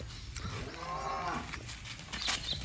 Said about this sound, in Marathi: शहाणा बैल आहे पोपटराव